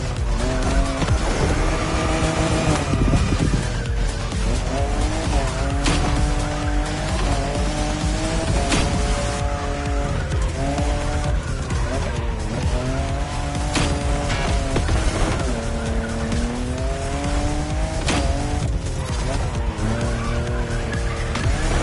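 A fifth-generation Toyota Supra drifting in The Crew Motorfest, its engine revving in rising and falling waves over continuous loud tire squeal and skidding, close and sustained with no talk.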